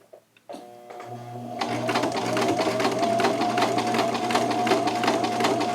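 Close and fairly loud, a sewing machine runs a double stitch on a slim fit shirt after a few faint clicks, then settles into a steady rapid needle chatter over a low motor hum.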